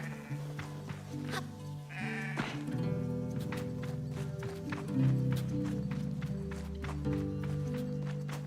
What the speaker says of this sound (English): Hey, there's sheep here now.